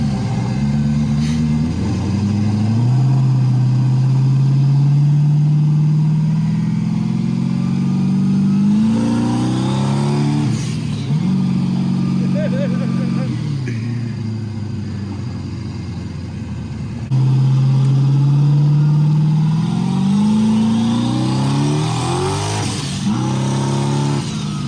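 Turbocharged muscle car engine warming up, a loud, close idle rumble that swells into repeated revs and accelerations with rising pitch, then settles back between pulls, no speech.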